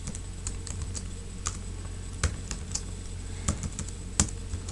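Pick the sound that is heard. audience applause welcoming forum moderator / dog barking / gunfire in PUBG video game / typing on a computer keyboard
typing on a computer keyboard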